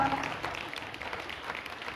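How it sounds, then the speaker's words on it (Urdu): A church congregation applauds during a sermon at a church meeting, giving a brief, moderately faint burst of clapping mixed with some background voices. "خداوند کے کلام کے لیے تالیاں بجائیے"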